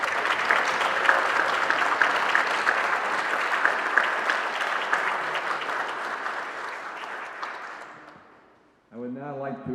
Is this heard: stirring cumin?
no